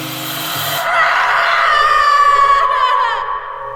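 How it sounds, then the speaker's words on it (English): A piercing, drawn-out cry in an audio drama set in darkness, a loud, strained wail that starts abruptly, swells and holds for about three seconds, then fades out, with no talk over it. "The sound of a piercing cry within the darkness."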